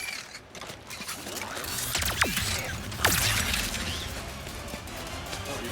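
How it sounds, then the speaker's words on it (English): Rhino weapon firing in Ratchet and Clank: Rift Apart, a mechanical whirring clatter with sharp swooping tones and a burst near the middle over busy game ambience, with no talk. "let's check out our new weapon, the Rhino"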